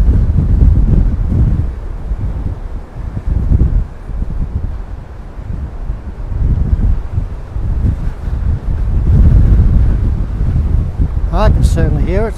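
Breeze gusting across a beach path at Glen Maye on the Isle of Man, a steady low wind rumble buffeting the microphone throughout, swelling and easing, with a brief bird chirp near the end.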